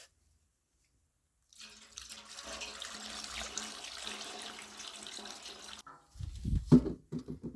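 Evapo-Rust is poured into a rusty gas tank, a steady splashing liquid stream lasting several seconds before stopping, followed by a brief sloshing clunk as the tank is handled.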